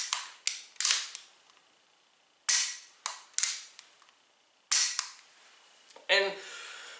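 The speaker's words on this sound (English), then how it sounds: "Pulling the trigger as fast as you can without moving the gun." Rapid dry-fire trigger clicks from an unloaded striker-fired pistol, sharp close metallic snaps in uneven bursts with short gaps, ending in a slightly longer rattling mechanical click.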